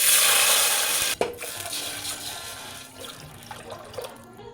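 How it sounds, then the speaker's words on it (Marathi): Water pours into a pot of veg dalcha with curry leaves and paste, a splashy rush, then a metallic clunk and quieter sloshing and stirring as the flow settles. "आणि पाणी घालायचं."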